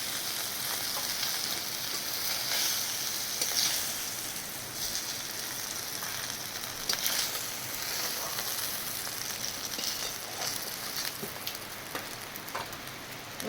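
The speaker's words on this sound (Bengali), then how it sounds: "আমার মাছগুলো ভাজা হয়ে গেছে" Hilsa fish frying in hot oil in a home kitchen, a steady dense sizzle and crackle that runs unbroken for the whole stretch, close and fairly loud, with no voices over it.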